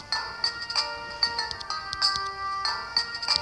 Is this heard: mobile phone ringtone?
yes